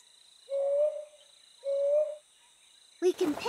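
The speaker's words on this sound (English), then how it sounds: "Brown hawk owls make loud calls." A brown hawk owl calls twice, two evenly spaced, loud hollow hoots against a quiet night backdrop with a faint steady insect drone, followed by a brief burst of other sound.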